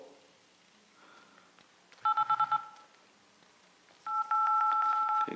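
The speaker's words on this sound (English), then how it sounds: "let's go ahead and open the dialer on both" Dialer keypad tones from HTC One and Nexus 5 phones: a short run of quick dual-tone beeps, then a longer, steadier tone sequence, fairly quiet over faint background clicks.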